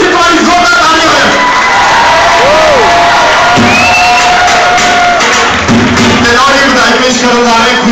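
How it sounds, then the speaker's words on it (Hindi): A wedding crowd claps and cheers loudly during a bhangra dance celebration, with whoops and shouts rising over dense applause that stays strong from start to finish. "जोरदार ताली बजनी, प्लीज तुम्हारी जोरदार ताली हो"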